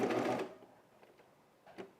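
A serger sewing machine stitches in a short loud burst, then stops and leaves quiet mechanical taps and a faint final whir.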